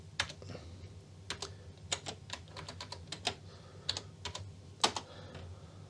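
A Tandy 200 portable computer's keyboard, recovering from battery leakage, is typed on in irregular bursts of close, crisp key clicks with short pauses and no talking.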